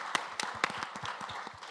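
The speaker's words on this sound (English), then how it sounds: "Again, I think that deserves a round of applause." Audience at a student architecture awards event clapping, a short burst of scattered, fairly quiet handclaps at an uneven rhythm.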